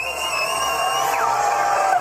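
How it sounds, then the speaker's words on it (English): A large crowd cheers along a royal wedding procession route, with a steady, dense roar of voices and scattered whoops at a distance. "The crowd is going crazy."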